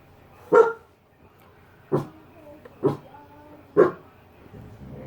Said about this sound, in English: The dog's barking at nothing again.